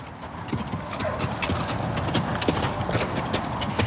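Horse hooves clip-clop rapidly on the sandy floor of a Portuguese bullring arena during mounted bullfighting, a close, brisk patter of steps with faint background voices.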